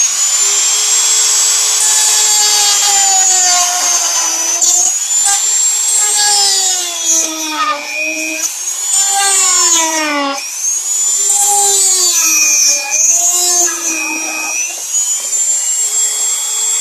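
A small power tool whines loudly and continuously while trimming plastic supports inside a Jarvis Omnibot 2000 robot, its pitch repeatedly sagging and recovering as the cutter bites into the plastic.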